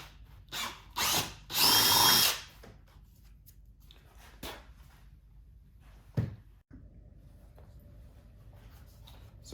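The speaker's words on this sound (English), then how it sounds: "You'll use a 3/8 inch drill bit to do this, and just drill right where that part was." Power drill boring a hole with a 3/8 inch bit for a base knob while fitting a subwoofer kit to a BMW K1600B motorcycle; a few loud short whirring bursts up front, then quieter handling noises and a brief thump.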